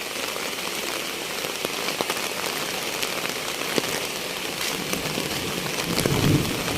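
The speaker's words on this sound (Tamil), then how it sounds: "மழை தொடங்கிட்டுது." Steady rain falls at the start of the rainy season, a dense continuous hiss with scattered drop clicks, joined near the end by a low, soft roll of distant thunder; no one speaks.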